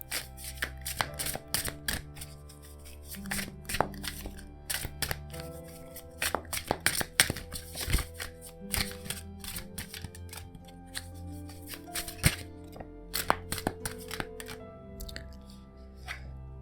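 Tarot cards are shuffled by hand close up in a quiet room, with quick irregular riffles, soft slaps and rustles coming in short bursts and no talking.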